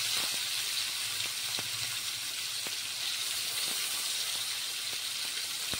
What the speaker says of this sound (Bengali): সেই মাছ ভাজা তেলে এবার আমি দিয়ে দিচ্ছি কালো জিরে।